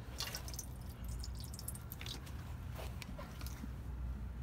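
Water poured through a part on a Chrysler supercharged V6 trickles and drips in scattered bursts over a rough, noisy background.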